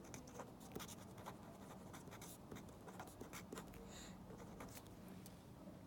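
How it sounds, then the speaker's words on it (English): A pen scratches quickly across paper as someone jots down a math note by hand. The strokes are short, quiet and close, with no talk over them. "let me write this down really fast"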